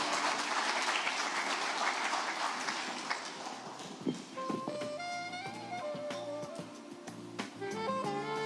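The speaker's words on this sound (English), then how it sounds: "A round of applause as she comes." An audience at a post-budget breakfast meeting claps steadily as a speaker comes up, a dense, loud round of applause that thins out and gives way to music.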